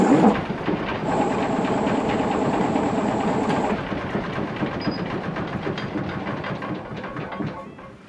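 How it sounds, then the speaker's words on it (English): A wood lathe badly shaking while turning a natural edge bowl of spruce, pine or fir at 540 RPM, a loud continuous rumbling drone with rattling vibration and a faint whine, steady throughout and slightly easing later. "Now I'm going to be turning at 540 RPM. I tried it as low as 200 RPM and it shook just as badly as it does here"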